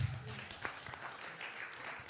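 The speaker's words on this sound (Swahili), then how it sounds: "Piga makofi kwa Yesu." A church congregation claps for Jesus during a Swahili sermon, a dense, steady wash of applause lasting about two seconds, with voices mixed in.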